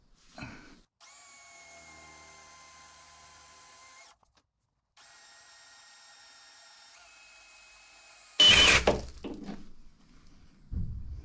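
A power drill whines in two long runs separated by a pause, its pitch shifting slightly, ending with a grinding burst and knocks, drilling a hole in a 1984 Bertone X1/9's front bumper area.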